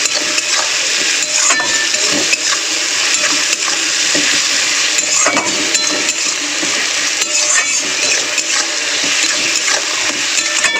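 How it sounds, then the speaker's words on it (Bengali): Bay leaves and dried red chillies fry with onions in a hot pan, giving a loud, continuous sizzle with scattered crackles and occasional stirring scrapes close up. "এবার দিয়ে দেবো 3টে তেজপাতা আর 4টে শুকনো লঙ্কা।"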